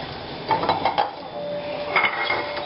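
Greased baking dishes clatter as they are set out for making Grenadian cucu, a few light metallic knocks and clinks heard up close against a quiet kitchen background.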